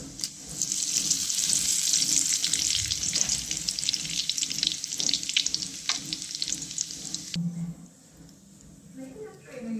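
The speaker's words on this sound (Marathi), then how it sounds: "सगळ्यात पहिल्यांदा मोहरी त्याच्यानंतर जिरी थोडीशी जिरे तडतडून द्यायची चांगली" Mustard seeds, cumin and curry leaves sizzle and crackle in hot oil for a tadka. The dense, steady frying hiss runs loud and close for most of the stretch, then drops away abruptly near the end.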